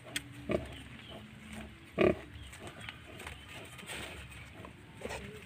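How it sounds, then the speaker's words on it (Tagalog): Newborn piglets suckling from a mother pig make soft, scattered grunts and a few short squeals over a quiet, steady background, with one louder grunt standing out now and then. "Busy na ang mga biik sa pagsuso"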